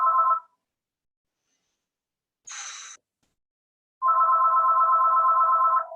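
A telephone goes off during a quiet qi gong session: a brief electronic tone, a higher chirp after a pause, then a long steady trilling ring, clear and alone with no talk.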